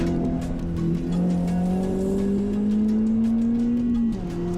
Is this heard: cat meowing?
no